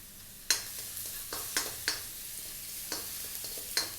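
Garlic drops into hot oil in a wok and sizzles, a steady close hiss broken by several sharp stirring scrapes and clacks, with no talk.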